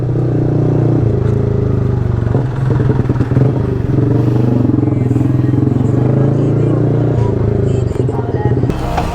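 A loud, rough motorcycle engine idles close by with a steady low rumble and uneven rattle, engine pulses fluctuating slightly, while people talk nearby.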